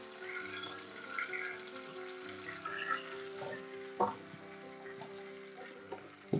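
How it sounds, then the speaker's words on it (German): Lamb shank, bones and trimmings sear in hot oil in a pan, giving a quiet, steady sizzle with occasional small crackles and pops. "Schön von allen Seiten anbraten."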